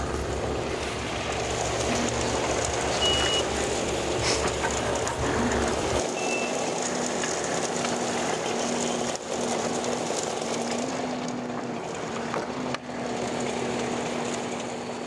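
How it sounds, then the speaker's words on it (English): Heavy road machinery drones steadily as an asphalt milling machine scrapes off damaged asphalt during strip patching, with a low engine rumble that cuts out partway and repeated reversing beeps over a constant grinding hum. "we got to see the miller scrape off the damaged asphalt"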